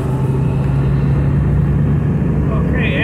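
A Jeep XJ Cherokee being driven on the road gives a steady, loud low engine and road rumble from inside the cab throughout, with a faint higher whine near the end.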